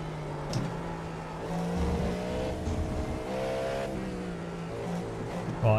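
A race car engine in a racing video game holds a steady, droning tone at speed. The pitch shifts slightly as the car works down the track, heard alone and at moderate loudness.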